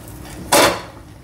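A coconut is set over a pot of boiling water and covered, producing one short, loud clatter of metal cookware against the pot amid quiet surroundings.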